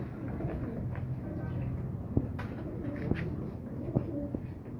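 Domestic pigeons coo in low, soft rolling phrases, several birds close by, with a few sharper chirps and faint background noise, in a rooftop pigeon loft in Karachi.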